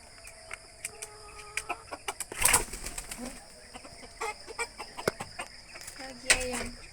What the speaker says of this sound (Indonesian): tuh suara ayam berkokok.